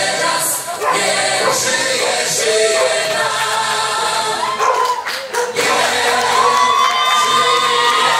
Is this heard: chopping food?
no